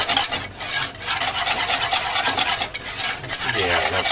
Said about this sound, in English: We'll whisk that a little bit.